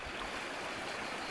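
The Fiora river runs through the archaeological park at Vulci, a soft, even rushing of water heard briefly and faintly, with no talk.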